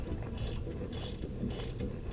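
A 1/4-inch flex head ratchet clicks in short bursts while loosening bolts on a Nissan S14 limited slip differential, rhythmic ratcheting repeated about three times, close and steady.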